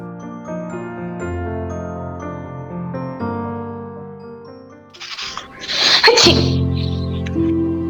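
One loud, close sneeze bursts out during a school's virtual annual concert, standing out sharply against a sustained musical background.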